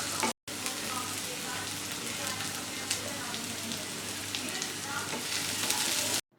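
Onion, garlic, green chilli and curry leaves sauté in coconut oil for a Kerala beef roast, giving a steady close sizzle with soft crackles and occasional stirring scrapes, broken by one very short gap near the start.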